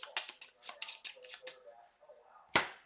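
Cards shuffle back into a deck in the digital card game Villains Beyond: a quick run of about ten crisp, papery flicks, a short pause, then one sharper snap at the end.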